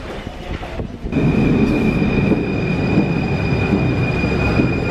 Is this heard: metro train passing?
yes